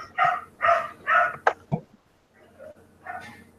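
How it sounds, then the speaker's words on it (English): A dog barks three times in an even rhythm, followed by a couple of sharper yips and a softer bark after a pause, heard indoors at moderate distance. "Is that the dog?"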